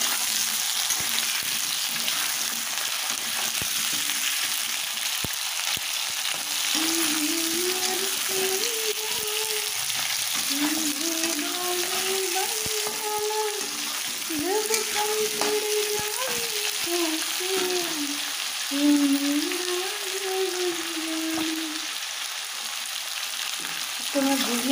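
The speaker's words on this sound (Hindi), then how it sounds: "तो मैं भूनने देती हूँ" Potatoes, washed and added to a pan for a sabzi, fry with a steady sizzle throughout, with occasional stirring scrapes and faint tonal clinks over the continuous crackle, no voices.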